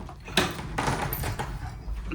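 An apartment door stuck with damp and mould is forced open, giving a sharp knock followed by dragging, scraping bursts of effort at close range.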